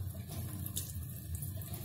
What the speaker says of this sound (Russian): Все, вода течет.